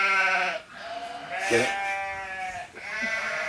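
Sheep bleating sound effect: three drawn-out, wavering bleats in a row, loud and close, with a brief voice over the start.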